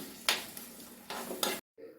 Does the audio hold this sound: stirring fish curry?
yes